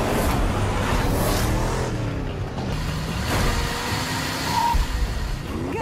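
A car driving fast, its engine roaring continuously and rising in pitch as it accelerates, loud and close with a rushing road noise.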